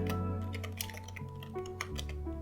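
Computer keyboard typing of a terminal touch command, a quick run of light key clicks close up, layered over a steady tonal background hum.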